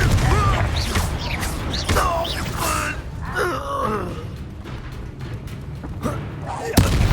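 The Confringo blasting spell in Hogwarts Legacy goes off as a loud, rumbling blast under the clamour of combat, with voices shouting and a sharp crack near the end.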